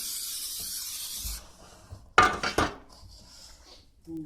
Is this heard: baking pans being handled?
yes